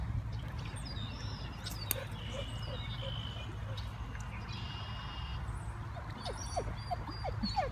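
Taz, a dog on an outing by a river, whimpers and yips in thin, high cries that come and go against steady low background noise. The calls grow more frequent toward the end, and a person talks nearby.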